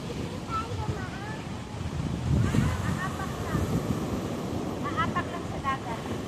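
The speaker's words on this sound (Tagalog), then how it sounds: "Kahit malakas ang alon." Strong sea waves washing onto a beach in Zambales, a steady roar of surf mixed with wind buffeting the microphone, with faint voices and calls in the background.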